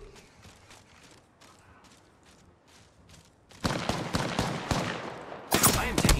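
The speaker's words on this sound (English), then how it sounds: "They're firing on me." Gunfire erupts in Apex Legends, faint distant taps at first, then loud close rapid volleys bursting in abruptly and growing louder toward the end.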